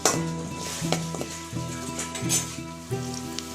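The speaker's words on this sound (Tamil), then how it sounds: "அது கூடவே ஒரு 4 பச்சை மிளகாய் போட்டுக்கலாம். அதையும் நல்லா வதக்கிக்கலாம்." Shallots and green chillies sauté and sizzle in a pan for a mutton liver masala. The frying hiss is steady, and a stirring utensil makes occasional scrapes and taps. Soft music plays underneath.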